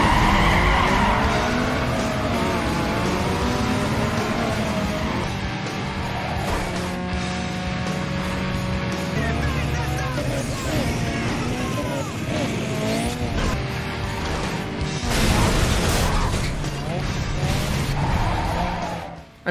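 A race car drives in Need for Speed Underground 2, its engine revving up and down through gear changes while tires squeal through corners, loud and sustained throughout.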